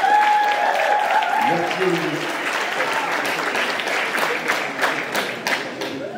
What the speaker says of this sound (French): Je te laisse la scène sous les applaudissements du public.